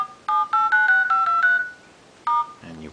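Keypad tones from the dialer of an Android 2.1 phone (Optimus Boston on Orange): six quick beeps in steady succession, a pause, then one more beep, clear and alone.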